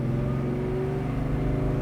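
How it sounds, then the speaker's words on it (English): Exhaust of a 1970 Chevrolet Chevelle fitted with aftermarket mufflers, a deep steady rumble that swells slightly as the accelerator is lightly pressed, heard close and alone. "I just barely pushed on the accelerator there"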